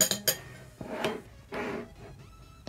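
A metal spoon clinks against a bowl holding water, a few sharp taps early on followed by softer scrapes and knocks, close up and quiet, with no voices.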